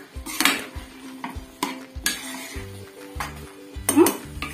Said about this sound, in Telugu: ఇందులో ఒక 2 స్పూన్లు కారం వేసుకుని, ఇదిగోండి మనం వేసుకున్న కారం, ఇదిగోండి చూసారా కారం అంతా మంచిగా మిక్స్ అయ్యే వరకు